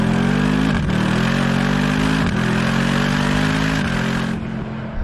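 A Mercedes-Benz AMG SLS with an unturbocharged engine roars through its exhaust, heard close and loud as it pulls hard through gears, with three distinct shift breaks before the note eases off at the end.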